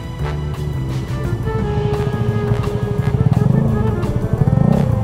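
Honda Grom small motorcycle engine accelerating, a close putter that rises into a buzzing, pulsing rev growing louder toward the end.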